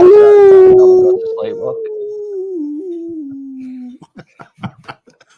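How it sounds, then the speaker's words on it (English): A dog gives one long, loud, wavering howl that slowly falls in pitch, followed by a few short yips and whimpers, close to the microphone. "My dog."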